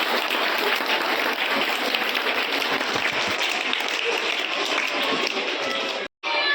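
An audience at a motivational talk on the constitution claps for the class, a dense, steady roar of applause that holds for several seconds before stopping abruptly.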